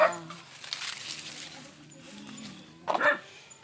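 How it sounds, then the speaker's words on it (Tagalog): A dog barks a few times at a distance, with a louder yip near the end, over quiet outdoor background. "Ayan, may aso pa. Tumatahol sa akin."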